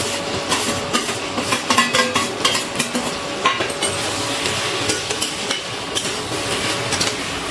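A metal spatula stirs fried prawns into a thick spice masala in a pan while making a ridge gourd, potato and prawn curry. It gives a steady run of close scraping and clinking strokes over a faint sizzle, with no voices.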